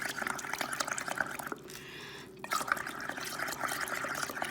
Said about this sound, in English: So just blow and make bubbles.